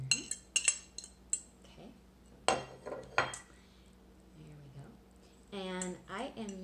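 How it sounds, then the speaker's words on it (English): A fork clinks and scrapes against a bowl while stirring grated lemon zest into half a cup of sugar, with several sharp taps and a few brief rattles close by. "I am using a fork to stir this in because I think it works much, much better"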